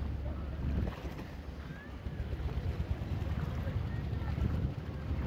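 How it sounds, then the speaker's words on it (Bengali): A fishing trawler moves out at sea, its low engine drone blended with wind buffeting the microphone and a soft wash of water, steady and moderately faint. "এই যে আমাদের ট্রলার চলে যাচ্ছে"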